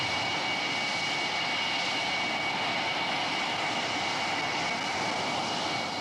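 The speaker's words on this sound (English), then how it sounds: "Jim Ludford makes a perfect touchdown and taxis in after the fastest flight he has ever made." A jet aircraft on a test flight touches down and taxis in, producing a steady, loud, broadband engine roar that holds constant throughout with no voices.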